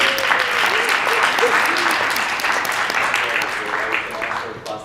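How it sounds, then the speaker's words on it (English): An audience at an ethics conference opening breaks into spontaneous applause, dense continuous clapping throughout with a few voices mixed in, fairly loud and close. "spontaneous applause is more evidence"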